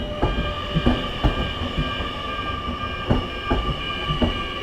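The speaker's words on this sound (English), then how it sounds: "maybe this is the one from Sydney. The brand new train." A new Sydney passenger train sits or rolls at a station, its loud, close rail noise carrying rhythmic clacks and thumps over a steady electrical hum and whine, with no one speaking.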